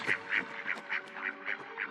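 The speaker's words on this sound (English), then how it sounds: "The swan made a loud cry." A swan crying out at a lake, a loud series of about seven evenly spaced nasal honking calls in quick rhythm, close and clear with no talk.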